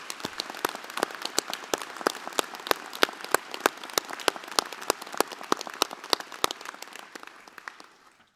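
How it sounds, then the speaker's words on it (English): Audience applause at a Massey University graduation ceremony in Manawatū: sparse, distinct claps from a modest crowd in a hall, a steady patter that thins and fades toward the end, with no talking over it. "can we give another round of applause for Dr. Marshall?"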